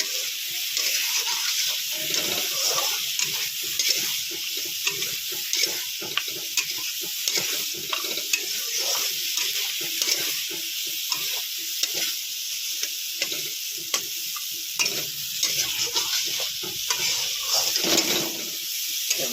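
Mustard paste sizzling in a pan while being stirred, a bright steady hiss broken by frequent spoon scrapes and wet bubbling pops, close and continuous, with no talk.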